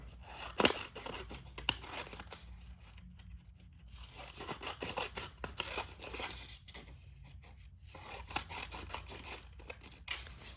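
Scissors snip through paper to cut out small tree shapes for a children's art lesson, producing a series of close, crisp crunching cuts with brief pauses between strokes, and no talking.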